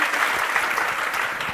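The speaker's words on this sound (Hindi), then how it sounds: "एक बार सुना के लिए जोरदार ताली" Loud, dense applause from an audience clapping for a young BPSC topper, steady throughout with no voices over it.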